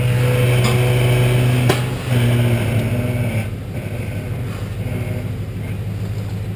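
A car engine idles and runs low and steady while the car slowly backs off oil-change ramps, a brief louder rev near the start, then the hum fading somewhat.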